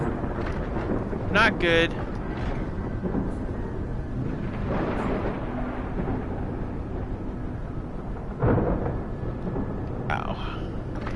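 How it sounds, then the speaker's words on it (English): A radiation lightning storm in a video game brings several heavy thunder rumbles and crackling bursts over a constant low roar of wind. Someone talks briefly between the rumbles. "Oh man, it's a rad storm."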